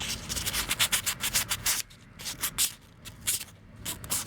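A die-cast Tomica 2008 Nissan Fairlady Z coupe model car is rubbed with 1000 grit sandpaper in quick, close back-and-forth strokes. A brief pause falls midway, then the strokes start again more softly.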